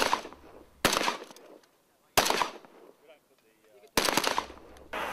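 Bursts of gunfire from a military weapons test on a desert range, three loud, close volleys of rapid shots separated by quieter pauses with faint background noise.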